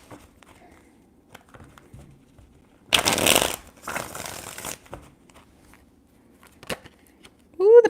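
Tarot cards shuffled by hand in two dense bursts of riffling, close and crisp, separated by a short pause, followed by faint handling noises and a brief tone at the end.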